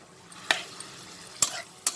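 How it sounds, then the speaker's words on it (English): Minced chicken being stirred and fried in a pan for aloo keema, with soft sizzling underneath and three sharp utensil scrapes against the pan, close and fairly quiet. "And I will mix everything together and fry it for some time."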